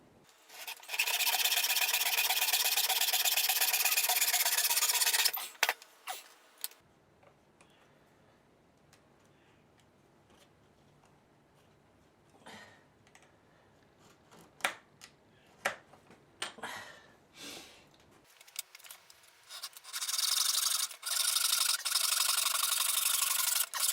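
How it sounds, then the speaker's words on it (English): Long rasping strokes of a hand file on aluminium rod, two sustained bouts separated by a quieter stretch of clicks and handling taps. "Now I'll use the files to get rid of the rough edges."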